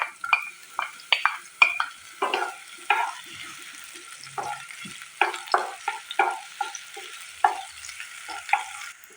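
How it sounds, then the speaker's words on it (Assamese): Finely chopped large onions and three green and ripe chillies frying in hot oil, with soft crackling sizzle under repeated scraping stirs of a spoon against the pan, fairly close and moderately quiet. "এয়া মই পিঁয়াজখিনি ভালদৰে জলকীয়াৰ সৈতে ভাজি ল'লোঁ।"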